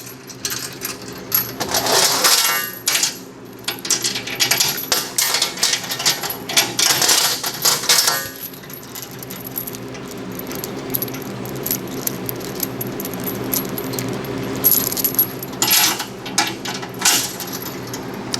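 Metal chains on a Vulcan welding cart jangle and clink in bright, busy bursts during the first several seconds and again briefly near the end, close and fairly loud, separated by quieter handling noise.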